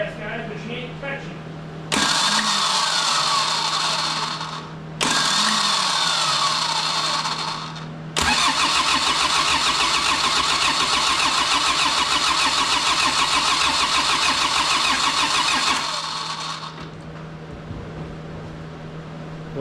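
A 1984 Ford Escort's engine cranks in three loud, close bursts, the last long and steady, catching briefly on hot fuel but failing to pick up and start.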